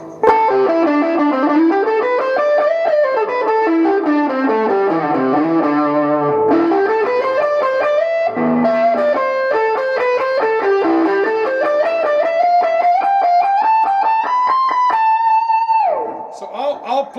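Blues electric guitar, left unmuted through a loud amp, plays a continuous run of gliding bent notes that climb and fall, with a distorted, ringing sustain and a bed of excess noise under the notes.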